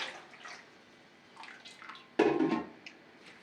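Water runs into a pot for a pickling marinade, a short rushing pour that starts abruptly near the end after quieter splashes and clinks, moderately close.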